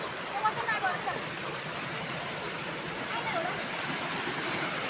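Water pours steadily into a pit it has carved out at a Konkan waterfall, giving a dense, continuous roar that stays loud throughout, with faint voices briefly audible underneath.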